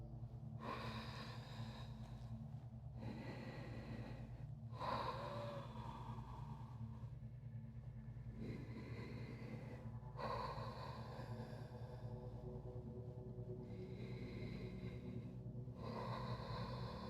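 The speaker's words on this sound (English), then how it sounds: "Breathing in and out through the chest." Slow, deep breaths during an intermediate-to-advanced yoga class, several long drawn inhales and exhales repeating in a steady cycle over a constant low background hum.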